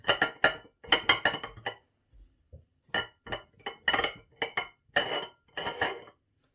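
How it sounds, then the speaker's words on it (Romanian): Quinces packed into glass jars for compote, giving a run of sharp clinks and knocks in irregular clusters, close and fairly loud, with brief pauses between bursts. "Voi continua să umplu borcanele cu gutui până le voi termina pe toate de umplut."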